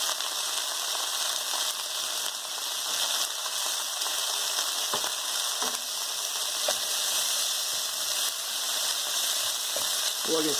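Bean sprouts and onions stir-frying in a wok for wet beef chow fun, a steady loud hiss of sizzling with faint scrapes and clicks of stirring throughout, no voices.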